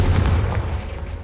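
Confringo fire-spell blast in Hogwarts Legacy: a loud, booming burst with a deep low thump that fades over about a second, alone.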